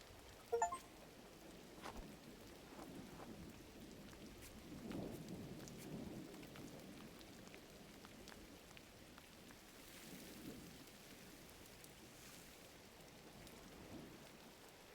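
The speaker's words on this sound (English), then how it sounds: "And now there's rain." Video game rain and thunder from Gris: steady rain patters throughout while low thunder rumbles swell and fade several times, with a brief sharp knock near the start.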